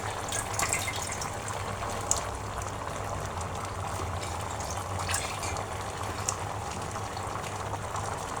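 Shrimp curry with malabar spinach and potato simmers in a pan, a steady soft bubbling and sizzling hiss that continues evenly throughout, with no one talking.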